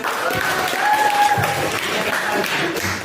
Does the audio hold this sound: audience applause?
yes